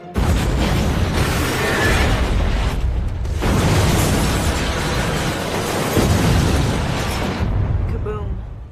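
Loud, sustained boom-like roar of an explosion in an action-movie scene, a dense wideband rumble running almost the whole stretch with a brief dip midway, and voices mixed into the din.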